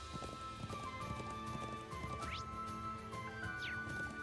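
Horse hooves clip-clop in a steady rhythm while riding through highlands in the role-playing game Trails Into Reverie, continuous and moderately quiet under game music.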